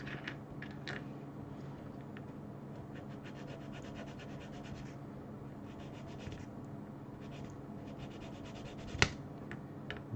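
Wood being hand sanded, a steady close scraping rub that continues throughout with a single sharp click near the end and no talking.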